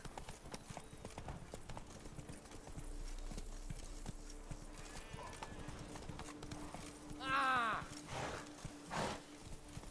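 Roach the horse trotting in The Witcher 3, hooves clip-clopping steadily and faintly in the background alongside soft ambient game sound, with a brief whinny-like call near the end.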